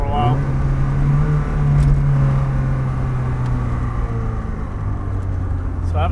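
An SR20-powered Datsun 510 idles steadily up close with a smooth, even hum and a deep low drone throughout, with a couple of faint clicks in the background.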